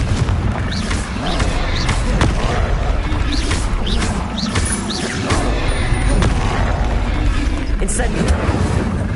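Explosive spell blasts and magical impacts from Hogwarts Legacy gameplay, several booming hits scattered through a dense, loud, continuous mix of game effects and music, with a voice talking throughout.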